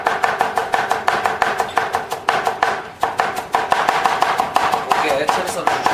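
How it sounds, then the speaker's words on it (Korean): A knife finely shreds cabbage and red cabbage on a cutting board in a steady run of rapid, crisp chops that carry on through the whole stretch, loud and close with no talk. "곱게 채를 썰어주시면 됩니다. 네, 양배추, 적채를 모두 잘라주시고요"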